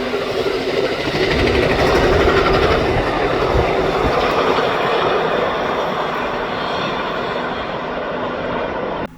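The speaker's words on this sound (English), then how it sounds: "The first train we would see would be Amtrak train P048 on its way to New York City." An Amtrak passenger train bound for New York City rushes past nearby, a loud sustained roar of wheels and rails that gradually eases toward the end.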